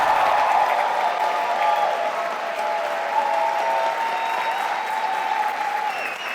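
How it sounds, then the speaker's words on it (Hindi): Audience at a live event breaks into sustained applause, a broad, even wash of many hands clapping that holds steady throughout and tapers slightly at the end. "जॉर्डन के लिए ताली हो जाए, रणबीर कपूर"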